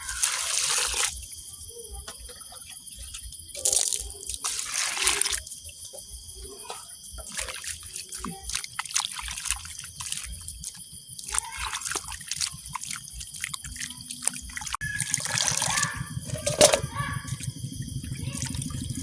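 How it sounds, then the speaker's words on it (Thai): Food is rinsed by hand in water, giving close, intermittent splashes, swishes and trickling drips that come and go, with a little talk faintly in the background. "เดี๋ยวล้างอีกน้ำหนึ่งเพื่อความสะอาด"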